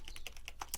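Quick, light keystrokes on a computer keyboard while a line of Python code is entered, a short close run of taps at low volume with no speech.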